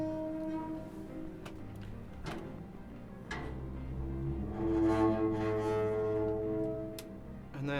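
The Sovereign sound effect from the video game Mass Effect, built from a processed garbage can lid: low, droning metallic tones with scattered sharp ticks and clanks, swelling into a louder resonant mechanical hum, heard alone.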